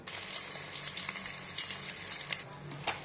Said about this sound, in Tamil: ஒரு 3 வெங்காயம் சேர்த்துக்கிறேன்.